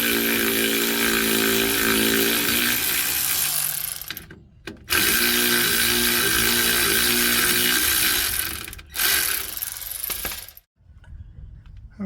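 A powered ratchet tool with a 10mm socket loosening bolts on a 2005 to 2015 Toyota Hilux rear axle, a loud, steady mechanical whirring in long bursts with brief pauses between.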